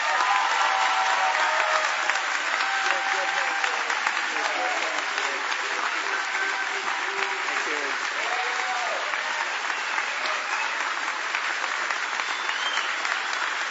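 A large audience applauds steadily and loudly to welcome Senator Harris Wofford at a governor's cabinet announcement, the dense clapping sustained evenly throughout with faint crowd voices mixed in.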